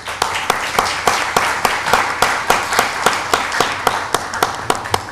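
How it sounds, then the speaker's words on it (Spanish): Applause in a municipal council session for the deputy mayor's birthday, a smaller group clapping close by with distinct, fairly regular rhythmic slaps over a soft room murmur, steady and loud throughout. "para quien voy a pedir un fuerte aplauso"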